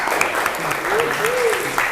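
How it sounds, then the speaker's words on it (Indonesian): A school class applauds at the end of a lesson, a short burst of many hands clapping together in a classroom, with a teacher's voice briefly heard over the clapping. "Oke, tepuk tangan."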